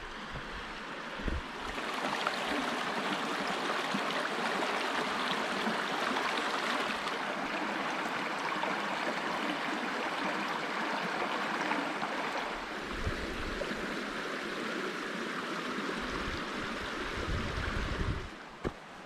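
Justus Creek flowing along the Appalachian Trail between Gooch Gap and the creek's camping area, a steady broadband rush of moving water filling the whole clip, fairly close and continuous, with a few soft knocks near the start and end.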